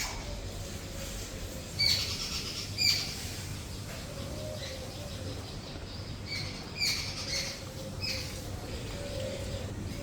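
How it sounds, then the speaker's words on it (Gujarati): Sparrows chirp outdoors in short, scattered bursts, faint and somewhat distant, over a soft, steady background hum. "બાર ક્યાંક ચકલા કેટલા મસ્ત બોલે છે જો."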